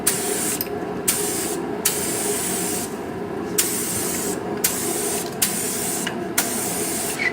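A spray gun lays chameleon candy paint on in thin coats, giving a steady close hiss broken by several short pauses and bursts as the trigger is released and pulled again during a purple-green colour-shifting paint job.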